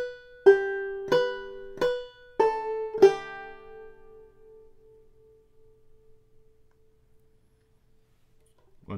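Five plucked notes ring out on a five-string banjo played clawhammer style, a short measure of the fiddle tune Haste to the Wedding, evenly spaced, then the last note sustains and fades into near silence.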